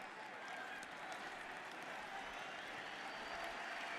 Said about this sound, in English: Well, here comes the applause.